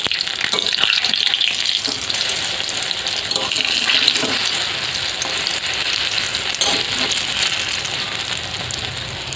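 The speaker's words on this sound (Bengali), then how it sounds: "লাল লাল করে খুব হালকা করে ভেজে নেবো, বেশি কড়া করে ভাজবো না।" Ground lentil paste (kalai bata) being lightly fried in oil, a bright continuous sizzle with occasional stirring clatter, close and fairly loud throughout.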